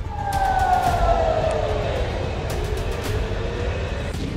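A wailing air raid siren rises and falls steadily over a low rumbling background in Israel during a Houthi missile attack, sounding fairly distant and continuous with no voices.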